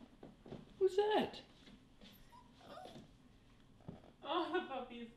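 A Corgi puppy gives short, high whimpers and yips, faint and intermittent, mixed with soft voices of people talking close by.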